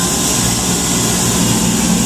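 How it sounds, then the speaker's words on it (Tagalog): A walk-in chiller's refrigeration unit runs steadily, a loud, continuous mechanical hum and broadband whir with no change in level throughout. "Ito yung makina ng walk-in natin."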